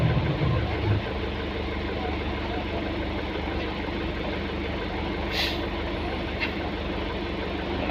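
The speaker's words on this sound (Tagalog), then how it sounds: "Malaki ng train." A large train engine runs in a steady low rumble at close range, with a couple of brief faint higher hisses partway through and no talking.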